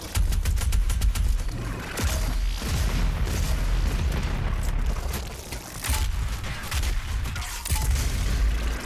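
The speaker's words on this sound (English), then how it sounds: "Enough with the firing already" Gunfire and explosions in Doom Eternal, a dense, loud barrage of booming shots and blasts that carries on nearly continuously with brief dips.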